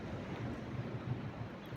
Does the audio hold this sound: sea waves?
yes